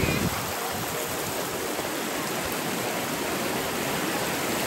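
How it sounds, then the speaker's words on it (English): A river rushes down through a mountain valley on the Breckenridge overland route, a loud, steady, close wash of flowing water that fills the whole stretch without pause. "You got like a nice river coming down through here."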